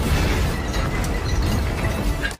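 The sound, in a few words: airplane explosion in film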